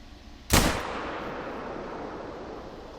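A single loud rifle shot at a moose in a hunting game cracks out sharply, then a long rolling echo slowly fades into the quiet outdoor background.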